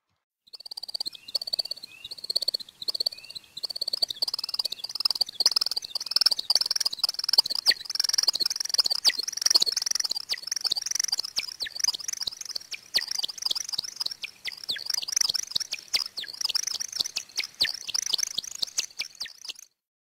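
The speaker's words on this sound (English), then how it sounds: "Listen to the recording and see if you can hear both the twittering and chirping sounds" Male woodcock courtship display, a long run of high twittering and chirping notes in rapid bursts that build, waver and continue for about twenty seconds, clear and fairly close with no talk.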